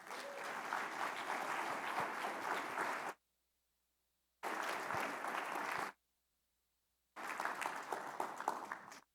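Audience applause at a talk on diversity and equity, honoring speaker Luis Ponjuan, comes in three dense bursts of clapping separated by abrupt silent gaps.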